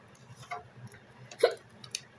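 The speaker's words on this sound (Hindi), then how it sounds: "कितनी हिचकी आएगी" A single faint hiccup pops out midway, close and brief, amid a few soft ticks and quiet background noise, with no talking.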